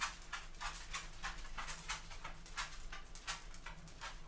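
Quick light taps repeating in an uneven patter, like a dog's claws clicking on a hard floor nearby, over a low steady hum.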